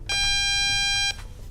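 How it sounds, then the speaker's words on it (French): A single long, loud electronic beep from a Diagral alarm control panel confirming a code, a steady high tone lasting about a second before cutting off. "La centrale confirme par un bip long."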